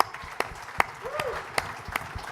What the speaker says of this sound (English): Let's get a round of applause for Gap.